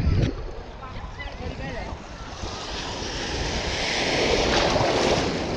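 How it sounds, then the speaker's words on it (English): Ocean waves and swells rolling in around someone standing out in the water at a beach, a steady close wash of surf with wind noise buffeting the microphone, no talking. "There's some swells coming in"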